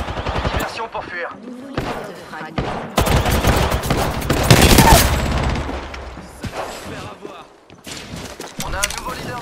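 Rapid bursts of automatic gunfire and single shots crackle through an Apex Legends firefight, loud and dense, with a voice speaking over the shooting.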